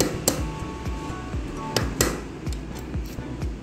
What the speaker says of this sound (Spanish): vamos a golpear. Vamos a golpear suave,